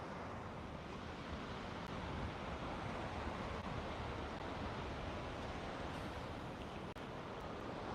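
Steady ocean breeze and surf at the shore during a morning outdoor session, a continuous broad wash of wind and breaking waves filling the whole clip with no talk.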